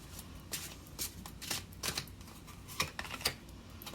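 Tarot cards being shuffled during a reading: repeated crisp riffling bursts at an irregular pace, close and fairly quiet, with no talking.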